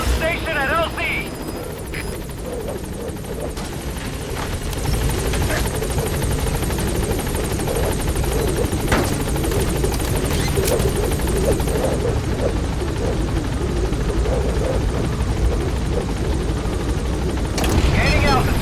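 A support helicopter in Metal Gear Solid 5 closing on a landing zone, a loud continuous rotor thump and engine whine building in volume, with radio-style voices speaking over it.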